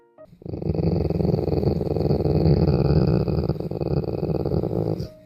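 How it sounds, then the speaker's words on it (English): A Rottweiler gives a sustained low throat rumble, a deep continuous growl-like sound close by that holds steady for about five seconds before stopping abruptly. "A low throat rumble, almost like a growl."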